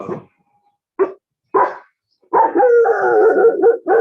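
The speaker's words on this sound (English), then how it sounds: "that's my dog." A pet dog barks a few sharp times, then goes into a longer drawn-out howling yelp, loud and close, with no talk over it.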